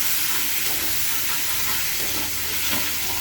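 Tomato paste frying in a pan with black cumin seeds, a dense, steady sizzle and hiss with soft stirring scrapes, close and continuous.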